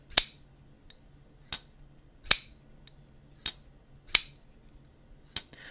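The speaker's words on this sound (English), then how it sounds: "open and close the knife a couple times" A CKF Tegral folding knife is snapped open and shut several times. Crisp, bright clicks land at roughly even intervals, some louder and some lighter, close up and quiet between snaps.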